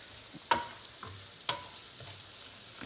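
Cabbage fries in a pan as a utensil stirs it, soft sizzling under a few sharp scraping clinks of spoon on metal roughly once a second, close and fairly quiet.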